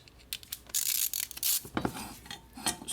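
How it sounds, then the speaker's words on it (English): Ratchet clicking while undoing the thermostat housing bolts on a Mercedes Sprinter, in short bursts of close, bright mechanical clicks with brief pauses between strokes, no talking. "So we're gonna undo these two bolts over here so that we can detach the thermostat housing from this tube."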